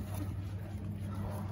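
A truck passes nearby, a continuous low engine drone with steady rumbling hum, fairly loud and unbroken.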